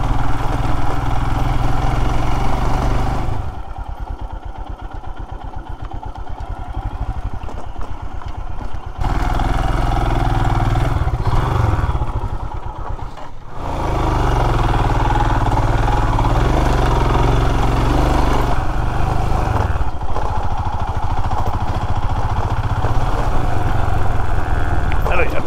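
A motorcycle engine drones steadily while riding a road in Meghalaya, loud and close, with a couple of dips as the throttle eases, and some talk over it.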